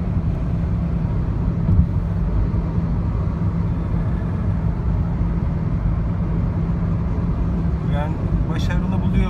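A low, steady roar of wind and road noise fills the cabin of a moving Citroen C-Elysee, a constant rumbling drone with no break, and a voice chirps faintly near the end.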